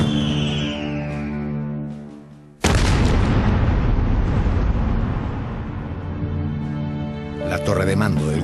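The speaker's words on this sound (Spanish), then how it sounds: "La torre de mando del Huáscar estalla pulverizada por un disparo." A cannon shot strikes and blows apart the command tower of the ironclad Huáscar in a War of the Pacific naval battle: a sudden heavy boom cuts in partway through and rolls on as a long roaring blast, with narration over it.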